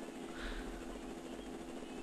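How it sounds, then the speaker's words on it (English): A transport helicopter from the Mega Man Zero video game approaches, heard as a steady low rotor thrum and engine drone under game music, holding an even level throughout. "Their transport chopper is rapidly approaching."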